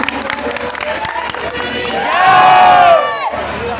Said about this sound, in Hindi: एक बार श्री राम म्यूजिकल ग्रुप के लिए जोरदार तालियां